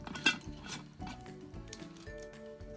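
A metal jar lid is screwed back down over its flipped seal in a Christmas in July trash-to-treasure craft project, giving a faint close clink followed by soft scraping, grinding metal turns with light ringing tones.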